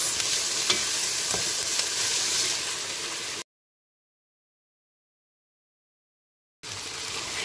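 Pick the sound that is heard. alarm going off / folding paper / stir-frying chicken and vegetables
stir-frying chicken and vegetables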